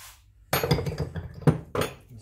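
A socket wrench tightening a Tractive closed suspension cartridge on a Yamaha Ténéré 700 motorcycle: a few sharp metallic clinks and knocks in an irregular rhythm, close and moderately loud, with no talk.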